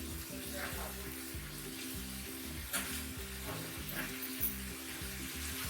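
Chicken Afghani karahi fries in a pan, a soft continuous sizzle with occasional stirring clinks, faint under a rhythmic low mechanical hum.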